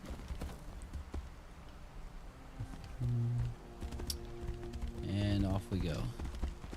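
Horse hooves clip-clop in Tainted Grail as a horse sets off at a quick steady pace, a soft rhythmic patter under a voice and game music tones.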